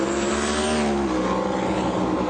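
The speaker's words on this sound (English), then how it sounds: "Look at that car carry the front wheels for the first 100 feet." A drag race car launches hard down the strip, its engine roaring loud and steady at full throttle from start to finish.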